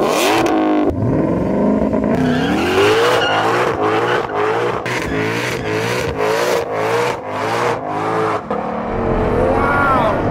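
A Ford Shelby GT500 with track mode engaged and electronic aids switched off accelerates hard, its loud engine climbing through a long series of revs with sharp gear changes, close and continuous.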